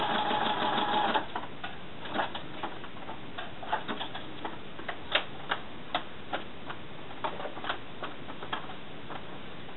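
A sewing machine runs zigzag stitches on a sweatshirt, starting with a short loud whirring burst and then settling into quieter rapid rhythmic ticking and clicking, alone and close.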